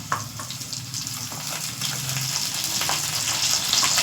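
Ginger, cumin, black pepper and butter frying in a pan give off a soft, steady sizzle that swells slightly partway through, with faint clatter and no voices.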